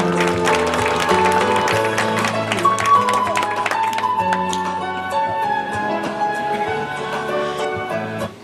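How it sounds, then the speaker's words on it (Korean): Audience applause at a farm party held at a farmhouse restaurant, a dense sustained clatter of many hands that stays steady and fairly loud, with music running underneath, before tapering off at the end. "우리 이분들께 큰 박수 부탁드리겠습니다"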